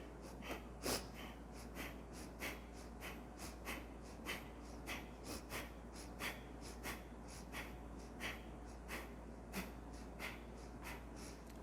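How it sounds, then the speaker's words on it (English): Short, rapid nasal breaths in and out during a yoga breathing exercise, close and soft, repeating in a quick even rhythm of sharp puffs over a low hum. "Inhaling short,"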